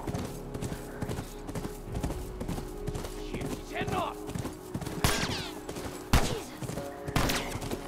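Horse hooves clip-clopping in The Last of Us Part II video game, a rapid continuous galloping rhythm under game sounds, with sharp gunshot-like bangs and people talking over it.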